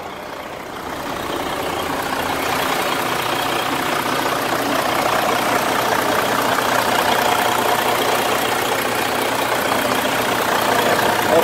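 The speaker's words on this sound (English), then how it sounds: "Engine looks and sounds good." A 2013 Freightliner Coronado truck engine idling, a steady low rumble with a rough, slightly knocking texture that holds evenly throughout.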